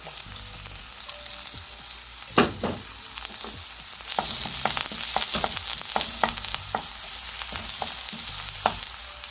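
Garlic and a little added oil frying for a cabbage and pork dish, a steady close sizzle with scattered sharp spatters and stirring clicks, no voices.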